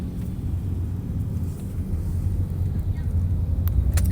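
Steady low rumble inside a moving car at night, a continuous close drone that builds slightly toward the end, with no talking.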